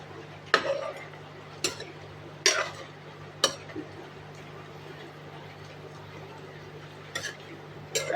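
Meat cooking spicy and dry in a pot on an induction cooker, with a spoon stirring and scraping against the pot in a few sharp clinks spaced seconds apart over a steady low hum.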